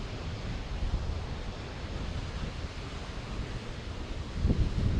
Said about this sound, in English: Very, very cold wind. The mist from the tunnel, from the waterfall is just crazy.